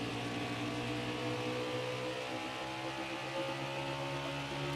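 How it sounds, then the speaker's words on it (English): A race car engine in NASCAR Heat 5, racing at Iowa, drones steadily and loudly throughout, its tone slightly uneven as the motor seems to skip. "it sounds like the motor is skipping"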